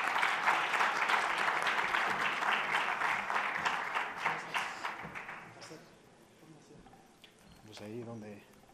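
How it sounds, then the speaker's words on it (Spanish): Audience at a business forum in Mexico applauding a panelist joining the stage, a full round of clapping that thins out after about five seconds, followed by a voice speaking. "Un aplauso, por favor, para Diego Basante."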